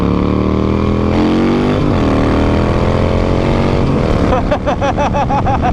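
A roadster motorcycle, a performance Sportster, cruises on a highway with a steady, loud engine drone and wind roar that shifts pitch as it speeds up, ending in a rising run of revs through the gears.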